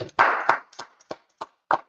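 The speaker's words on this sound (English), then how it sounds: "Let's clap it up for the Most High in Christ." A few scattered, sparse hand claps from an audience honouring the Most High at an Israelite gathering, coming as separate crisp claps in an uneven rhythm.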